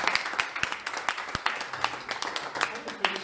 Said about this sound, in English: Can we give a round of applause to you?